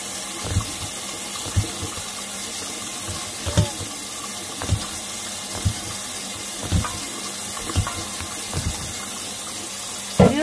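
Lukewarm water running from a tap into a cup or sink for washing makeup brushes, a steady faucet stream with soft splashes and a few light knocks at intervals.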